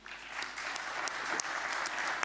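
Delegates at a football federation general assembly clap their hands, a steady roomful of applause with a few sharp individual claps standing out, moderately distant.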